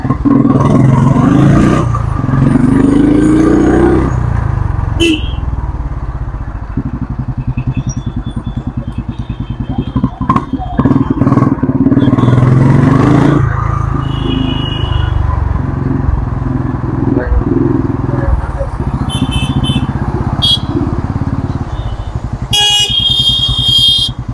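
A Royal Enfield Bullet motorcycle rides through city traffic with a loud, steady engine rumble close by, revving at times while car horns honk around it.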